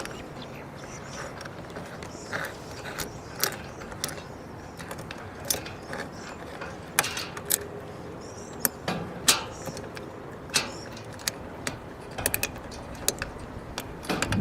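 Small metallic clicks and ticks of an Allen key tightening bolts on a Land Cruiser rooftop basket, irregular light taps over a faint background, close and quiet, with no talking.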